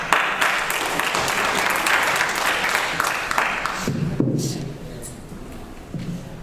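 Audience applause welcoming a speaker at an educators' event, a full round of clapping that is loud at first, then drops off to scattered claps with faint crowd noise.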